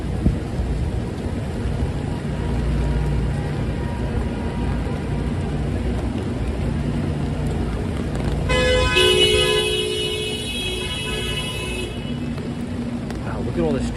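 Rainy Manhattan street traffic, a constant wash of engines and tire hiss on wet pavement with a sustained car horn blaring near the end, voices talking over it.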